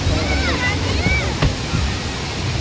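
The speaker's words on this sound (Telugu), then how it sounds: "వాటర్ ఫాల్ అయితే ఉంది" Water pours steadily at a man-made waterfall at an exhibition ground in KPHB, Hyderabad, making a broad, continuous rushing wash, while a voice talks over it.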